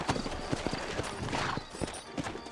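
Horse hooves clip-clop at a steady trotting rhythm in the Red Dead Redemption video game, close and fairly quiet, each strike distinct amid faint background ambience.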